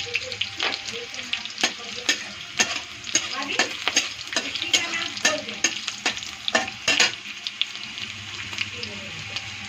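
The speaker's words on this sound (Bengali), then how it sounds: "লঙ্কাটা একটু ভাজা ভাজা হচ্ছে, একটু জিরা ছেড়ে দিব" Green chili and cumin fry in hot oil with a constant close sizzle, broken by repeated sharp spatula scrapes and clacks against the pan.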